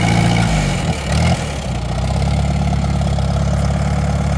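An Allis Chalmers CA tractor engine cranks and catches, then settles into a steady, close, throbbing idle with a regular low chug that runs to the end.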